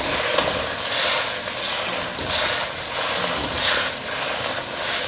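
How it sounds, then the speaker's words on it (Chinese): Green pepper, celery and king oyster mushrooms are stir-fried in a wok, making a loud, continuous sizzle. Rhythmic swells come with each quick toss and stir. "放入青椒， 还有芹菜，快速翻拌"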